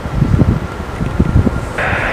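Strong, gusty wind buffets the microphone at an airport as a Ryanair jet takes off, giving an uneven, loud rumble throughout.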